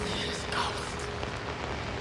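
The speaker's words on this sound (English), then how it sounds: "The rain doesn't help either." Rain falls outside at night in a steady, close hiss of drops on surfaces, continuous and fairly loud throughout the short stretch.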